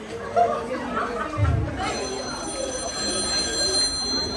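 A telephone rings with a sustained electronic tone amid faint chatter and a brief thump during a theater play, the ringing continuing steadily through the second half.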